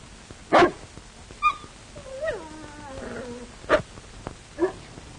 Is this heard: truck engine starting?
no